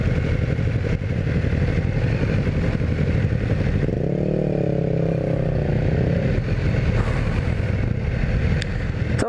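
A 2018 BMW S1000R motorcycle roars steadily and loud throughout with heavy wind rush, its engine tone rising and shifting in pitch midway as the bike accelerates.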